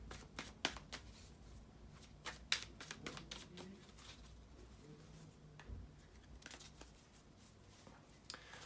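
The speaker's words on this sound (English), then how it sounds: "bear with me just a second, guys, to shuffle the tarot cards" Soft, quiet riffling and tapping of cards being shuffled by hand, in irregular bursts of crisp clicks.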